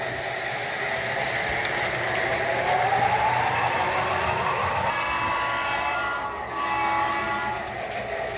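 A model locomotive runs on a wall-mounted, PLC-controlled train layout, giving a steady motor whine and rolling rumble with a rising tonal sweep midway, then a shift in pitch as it continues, with no voices.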